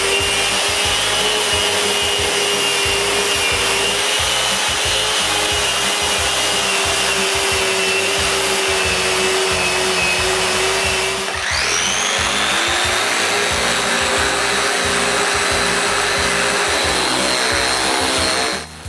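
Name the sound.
sanding wooden dresser panels with 220 grit sander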